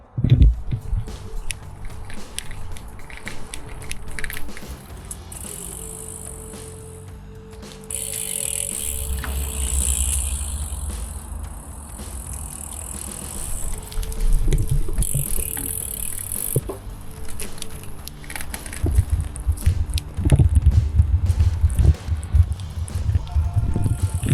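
A bicycle rolls along a Kyiv cycling route over mixed road surfaces, tyres hissing and rumbling with rattles and clicks from the frame and drivetrain, growing louder and bumpier toward the end over rough patches.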